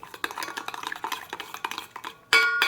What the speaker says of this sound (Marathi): तर आता हे सगळं ना या दह्यामध्ये मिक्स करायचं